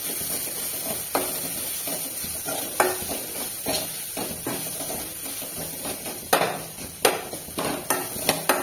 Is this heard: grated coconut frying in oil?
yes